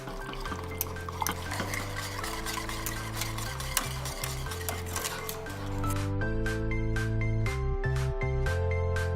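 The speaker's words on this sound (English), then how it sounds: "Once you've added all the ingredients to the milk, go ahead and start whisking it" A whisk stirs peanut butter and sugar into warming milk in a pot, making steady scraping and clinking strokes against the metal, close and continuous, with a low hum beneath and no talking.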